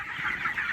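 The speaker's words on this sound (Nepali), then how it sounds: "यस्तो मजाले कुखुराहरू पानी खाइरहेको छ" Backyard chickens cluck softly and briefly while drinking water from a bowl, close by and without any talking.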